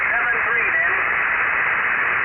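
An Icom IC-9700 receiving an amateur radio transmission on 144.250 USB gives a band-limited hiss. Distorted single-sideband voices warble through the static, loud and continuous.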